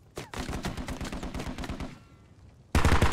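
Rapid bursts of automatic gunfire from armored vehicles in the video game Squad, firing in a fast, even rhythm that tails off, then a loud heavy blast cuts in at the end.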